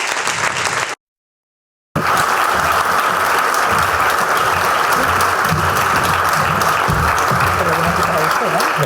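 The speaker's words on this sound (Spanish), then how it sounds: "pido un fuerte aplauso para él" Steady, dense audience applause at a book presentation on underground mining in Aznalcóllar, with a brief silent gap near the start before clapping resumes and continues loudly throughout.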